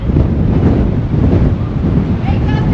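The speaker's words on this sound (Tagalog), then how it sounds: "Grabe, ang lakas ng hangin." Strong wind on a Las Vegas street buffets the microphone with loud, continuous rumbling gusts throughout, and a voice is faintly present underneath.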